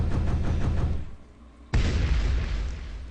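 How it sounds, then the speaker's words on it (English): In the video game The Way Back, a rumbling roar fades to near quiet, and then a big explosion erupts with a sudden heavy boom and a loud, sustained crackling rumble. "Of course, I love me a big explosion."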